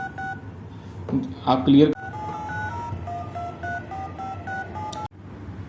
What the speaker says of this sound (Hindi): तो हम डीटीएमएफ टोन जनरेटर ऐप भी डाल सकते हैं, देखिए। और जब यहाँ पे आप डायल करेंगे तो ये सब चीजें डायल होंगी।